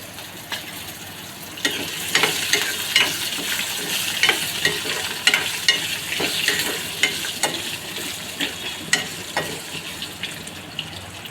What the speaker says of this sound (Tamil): நல்லா பொறிஞ்சு வந்தோடனே கருகப்பில் போட்டுக்கலாம் இஞ்சியும் பூண்டும் அதிலே போட்டுக்கலாம்